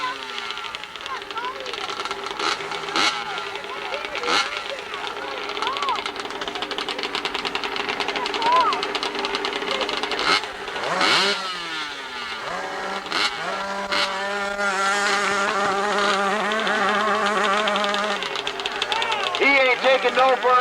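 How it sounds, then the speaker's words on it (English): An 80cc Kawasaki motorcycle engine revs and strains during a junior-class hillclimb in Enfield, New Hampshire, its pitch rising and falling through gear changes at a moderate distance, with a commentator talking over it throughout. "Thibault from Tylerton, Rhode Island on a Kawasaki."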